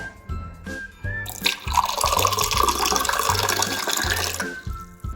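Plain water poured into a glass for lemon sherbet, a close, steady splashing fill lasting about three seconds, with quiet pauses before and after.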